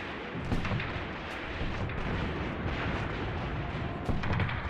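Rapid gunfire and booming artillery from the Graviteam Tactics: Mius Front game, set in the 1943 Belgorod-Kharkov defensive operation, crackle in repeated bursts over a dense, rumbling battle din.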